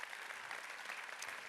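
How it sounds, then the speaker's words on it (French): An audience applauds event sponsors at the opening ceremony of a French customer-relations industry gathering, giving steady, dense clapping that holds evenly throughout with no pauses. "On peut les applaudir."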